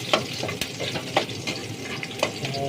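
A frying pan twisted on the burner while pancit canton is being cooked with garlic: a few sharp metallic scrapes and knocks over a continuous close sizzle.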